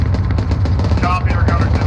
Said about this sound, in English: I'm hearing a lot of fire behind me